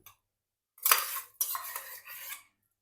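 Sago being stirred and mashed in a bowl with a spoon, two short bursts of clinking and scraping against the bowl separated by a brief pause, close and clear with no talking.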